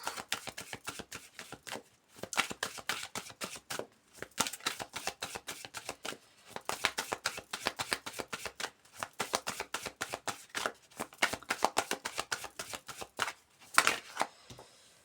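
Tarot cards are shuffled by hand in rapid riffling bursts of crisp flicks, repeated in several rounds with short pauses between them, close and fairly quiet.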